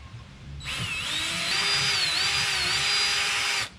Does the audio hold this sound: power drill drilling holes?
yes